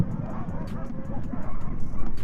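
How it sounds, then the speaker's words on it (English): Husky sled dogs in snowy Lapland barking and yipping excitedly before setting off, a busy continuous chorus of mixed yelps over steady background rumble, fairly loud and close. "The dogs are ready to go for sure, so they are happy to go"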